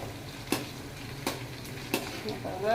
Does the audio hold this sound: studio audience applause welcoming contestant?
no